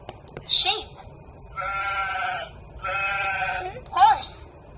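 Sheep bleat twice in long, nasal, wavering calls that sound like a recording or toy, with brief voices and a high squeal before and after.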